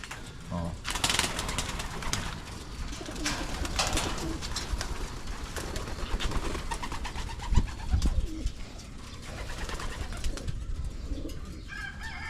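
Pigeons coo and birds call nearby amid a busy outdoor ambience, with people talking intermittently throughout.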